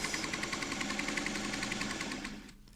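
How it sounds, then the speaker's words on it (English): Sewing machine stitching pairs of 5-inch quilt charm pack squares, a fast steady mechanical chatter of rapid needle strokes running continuously before slowing and stopping near the end. "We are sewing them together in random pairs."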